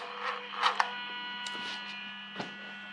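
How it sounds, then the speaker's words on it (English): Electronic throttle body on a 1UZ VVTi V8 powered up with the engine off, giving a faint steady electrical hum under light ticks and clicks. "we can hear the throttle humming"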